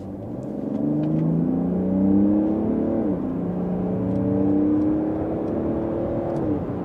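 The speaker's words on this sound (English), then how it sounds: "let's put here to the sport mode, and let's also accelerate here from 50 kilometers an hour" A Mercedes GLE 450d diesel SUV accelerates hard in sport mode from 50 km/h, a steady rising engine drone with gear-change dips, heard from inside the cabin without talk.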